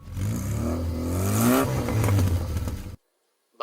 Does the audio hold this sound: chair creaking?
no